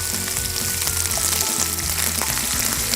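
Onions and curry leaves fry in hot oil with a loud, dense, continuous sizzle and crackle, close up, with no voices.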